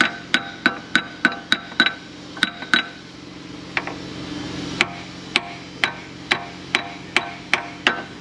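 Hammer taps ring out on a stuck part under the hood of a 2000 Nissan Pathfinder 3.3, sharp metallic strikes in quick bursts of several, then a pause, then a steady run of single, evenly spaced blows, close and clear.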